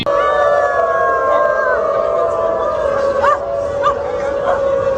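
A large crowd of people at a street protest imitate dogs with long, overlapping howls and scattered yips and barks, loud and continuous throughout.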